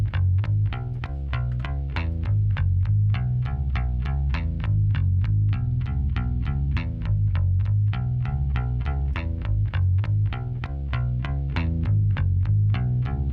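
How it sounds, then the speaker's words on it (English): Bass guitar run through a Pultec-style EQ with a mid-range dip being ramped up, playing a steady, rhythmic line of evenly plucked notes that stays loud and full throughout, with no talking. "I'm performing a dip, and I want to get rid of some of that bassy mud"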